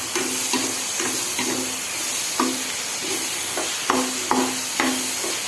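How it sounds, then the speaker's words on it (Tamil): Hot sesame oil hisses and sizzles steadily while being stirred into pickle, with periodic scraping strokes against the pan in an irregular rhythm. "நல்லெண்ணெய் நல்லா கொதிக்கும்போது எடுத்து மேலே ஊற்றி கலக்கி வச்சிட வேண்டியதுதான்"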